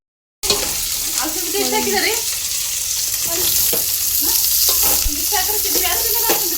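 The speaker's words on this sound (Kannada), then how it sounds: "ಈಗ ಇದಕ್ಕೆ ಎಣ್ಣೆ ಹಾಕೋಣ ಈಗ ಇದಕ್ಕೆ ಸ್ವಲ್ಪ ಸಾಸಿವೆ ಹಾಕೋಣ" Mustard seeds spit and crackle in hot oil in a pan during home cooking, a close, steady sizzle scattered with sharp pops that starts abruptly after a brief silence.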